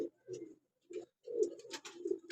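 Neel Dumba breeding pigeons, a male and a female perched close by, give repeated low throaty coos in short bursts separated by brief pauses, loud and near, with no voices present.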